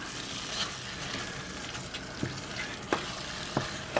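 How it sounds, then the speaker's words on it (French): Pre-cooked squash being stirred into risotto in a pan, with a steady soft sizzle and a few distinct spoon scrapes and knocks near the end, close up with no talking. "Et à la fin, je vais y ajouter mes courges que j'ai préalablement cuites. je vais mélanger tout ça."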